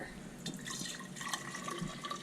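Reverse osmosis water runs steadily into a container with a bright splashing, trickling texture, close by and moderately loud, with faint drips and no talking.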